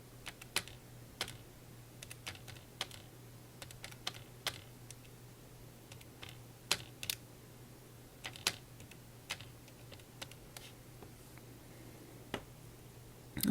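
Keys on a calculator keypad are tapped in an irregular series of light, close clicks, some in quick bursts and others spaced apart, with no one speaking.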